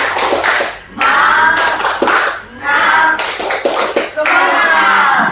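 Students at a vocational school gathering clap their hands together in loud bursts, each separated by short pauses, with shouted voices mixed in among the claps.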